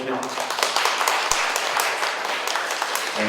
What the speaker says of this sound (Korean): 박수 한번 좀 주시죠